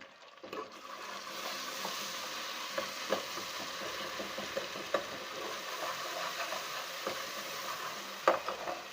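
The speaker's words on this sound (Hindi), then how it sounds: "अब हम इसमें डालेंगे अदरक लहसुन का पेस्ट। हम इसको डार्क ब्राउन नहीं करेंगे।" Ginger garlic paste sizzles steadily in hot oil in a pan while cooking a white lobia curry, with occasional soft clicks of stirring over the continuous frying hiss; no voices.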